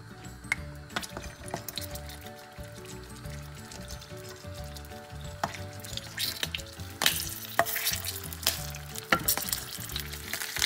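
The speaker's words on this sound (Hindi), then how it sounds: "जो हमने अभी शिमला मिर्च में स्टफिंग की थी उसको हम शैलो फ्राई करेंगे" Stuffed capsicum shallow-frying in oil in a pan: a continuous crackling sizzle with scattered pops, growing louder and busier toward the end, a few light clinks of the pan, no talking.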